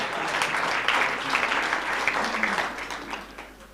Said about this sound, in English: Give me a big hand of applause